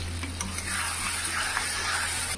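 A splash of water goes into a pan of spices and chopped tomato for dhaba-style chicken curry, giving a steady watery hiss and sizzle close by over a low hum.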